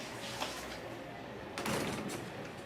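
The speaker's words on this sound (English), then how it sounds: "Close the door" A door shuts with a single solid thud partway through a quiet indoor scene in the Coronation Street TV drama, set against low room tone.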